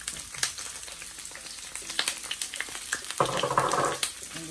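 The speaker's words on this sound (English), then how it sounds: "I added coconut oil in my pan. I'm going to add the cabbage." Shredded cabbage sizzling as it fries in hot coconut oil in a pan, a dense close crackle with bursts of spattering and some stirring, no voices.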